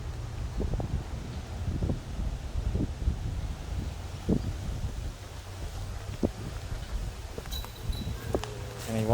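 Strong wind gusts buffet the microphone outdoors at a disc golf course in Adelaide, South Australia, a low steady rumble with repeated thumping bursts throughout, no talk.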